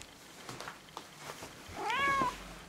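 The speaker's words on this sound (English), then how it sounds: "It's the cat." A cat gives one clear rising-and-falling meow near the end, close and fairly loud, after some faint rustling and scattered room noise.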